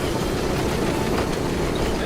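A moving train in the World War II shooter Medal of Honor: Above and Beyond, a steady rumbling roll with low clatter, continuous and close, with faint voices mixed in.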